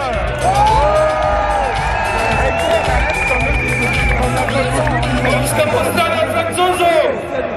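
A Manif Pour Tous rally crowd cheers and applauds for a speaker named Grzegorz, with whoops and whistles over dense, loud crowd noise and babble that runs steadily throughout.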